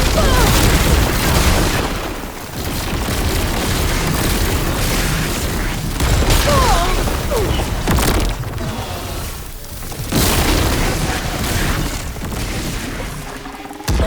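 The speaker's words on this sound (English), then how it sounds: "Hey, big explosion!" Heavy explosions in the video game Horizon Forbidden West: Burning Shores, a string of loud, deep booms and rumbling bursts that run almost continuously, with brief voices in between.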